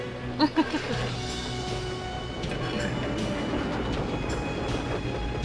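A train running along its track in The Last Express, a steady rolling rumble that fills the whole clip, with a couple of brief thumps near the start and a faint voice under it.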